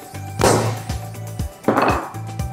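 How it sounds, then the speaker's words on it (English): A small hand sledge hammer strikes a block of Thordon SXL polymer twice, each a sharp, loud, close impact, separated by softer knocks and handling noises, with no talk. "So here we got a nice little hand sledge."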